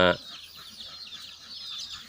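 Domestic free-range chickens in rural Surin, Thailand, cluck softly and repeatedly in the background after a brief opening sound, a low, steady scatter of bird calls at moderate distance.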